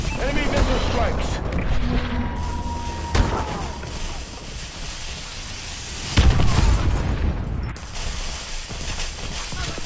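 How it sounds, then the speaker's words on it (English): Enemy missile strikes hit in Call of Duty: Advanced Warfare: two heavy, booming impacts a few seconds apart over a constant rumbling battle din, with a voice talking over parts of it. "Enemy missile strikes."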